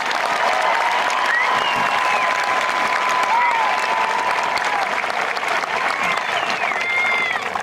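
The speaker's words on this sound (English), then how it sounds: "Let's give them a round of applause." Sustained applause from a large audience at a high school graduation ceremony, dense steady clapping throughout with scattered cheers and whistles riding over it, no pauses.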